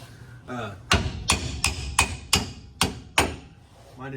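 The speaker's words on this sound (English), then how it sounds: "Now let me get a hammer and I can tap these U-bolts out of here" A hammer strikes U-bolts on a 1960 Ford Fairlane about eight times in a steady rhythm, sharp ringing knocks close up, each followed by a short decay.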